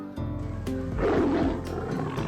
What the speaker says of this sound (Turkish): Burada senden başka artık kükreyen bir kedi yok